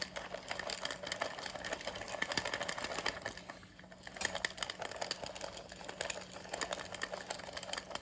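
A cord knitting machine runs steadily, clattering and whirring in a fast mechanical rhythm while skipping stitches, with a brief slowdown midway before it picks up again; close and fairly loud with no talking.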